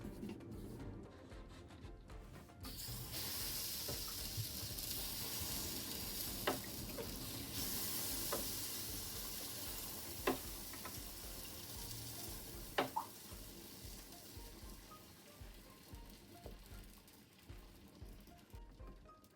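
Oil sizzles steadily in a takoyaki pan, a dense frying hiss that holds for the whole stretch with a few sharper crackles and pops.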